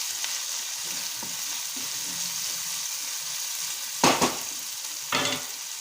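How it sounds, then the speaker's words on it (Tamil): Capsicum sautéing in a pan for a potato capsicum rice gives a soft, steady sizzle throughout, with two brief louder bursts of stirring toward the end. "குடமிளகா போட்டு 1 நிமிஷம் நல்லா வதக்கி விடுங்க"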